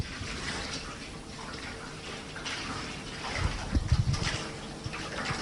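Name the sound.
cold water poured onto a very hot metal drum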